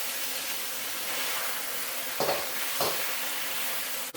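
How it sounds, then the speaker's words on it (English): Beef and vegetables stir-fry in a hot pan with a constant loud sizzle, and a couple of brief scraping tosses break through the hiss. "So the beef is getting its color. Now I can start tossing it around with the other veggies in here."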